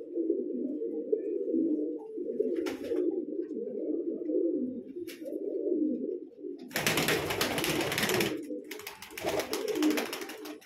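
A fancier's prized pet pigeon coos steadily and close by, low throaty calls rolling on almost without pause, with a burst of rushing noise partway through.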